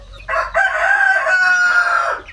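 A native rooster on a chicken farm gives a single loud, close cock-a-doodle-doo crow lasting about two seconds.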